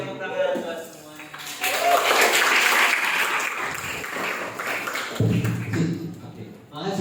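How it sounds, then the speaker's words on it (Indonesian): An audience at a school leadership training event applauds, a burst of clapping that swells and fades while people talk over and around it. "tepuk tangan buat semuanya"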